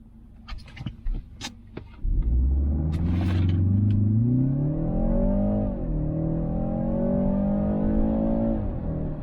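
A 2020 BMW 330i launches from a standstill on wet roads with three people aboard, its engine surging into a loud, steady climbing roar that rises through gear changes, after a few light knocks and taps in the cabin.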